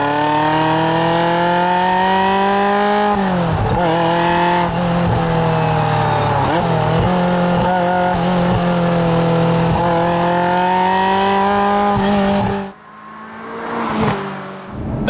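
A road-legal 1995 Ferrari F355 Challenge howls loudly at high revs from inside the car while driving, its engine note rising and dipping through gear changes for a long stretch. It briefly drops away near the end, then comes back as the engine picks up again.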